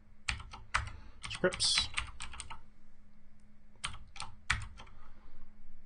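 Keys clatter on a computer keyboard in two quick bursts of typing, the second ending in a firmer tap of the enter key, close and clear over a low steady hum, with a voice speaking softly in between.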